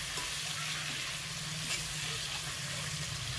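Steady, crackling sizzle of chicken frying in hot oil, continuous and close, with a faint clink near the end.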